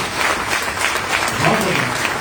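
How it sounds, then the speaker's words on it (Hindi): Loud, sustained crowd applause at a political gathering honouring revolutionary comrades, a dense wash of clapping with faint voices mixed in. "जोरदार तालियां उन क्रांतिकारी साथियों के लिए"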